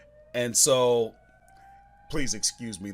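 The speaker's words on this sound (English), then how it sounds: "that's a siren in my neighborhood going off." A siren wails somewhere in a residential neighborhood as a steady, slowly rising tone, faint and distant under a man's speech before it fades out.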